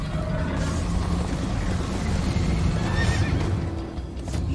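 A horse in Minecraft Story Mode neighs and whinnies over steady galloping hoofbeats, loud and close, with a rumbling backdrop throughout.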